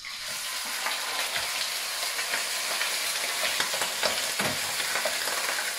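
Lamb meat browning in hot oil sizzles loudly and continuously up close, with small crackles and stirring scrapes running through the steady hiss.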